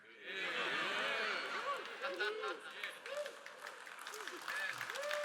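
A church congregation applauds during a French-language sermon, steady clapping throughout with a preacher's voice speaking over it, laughter mixed in.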